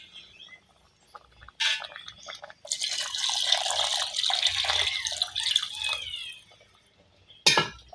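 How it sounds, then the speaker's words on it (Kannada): Water pours into a pressure cooker holding masala rice and vegetables, a splashing, gurgling stream of several seconds framed by brief clatters before and after. "ನಾನು 3 ಪಾವು ಹಾಕ್ಕೊಂಡಿದ್ದೀನಿ ನೀರು"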